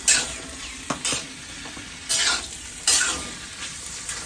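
Mutton frying in a pan, a steady close sizzle broken by several loud scraping strokes of a spoon stirring the meat, with no one speaking.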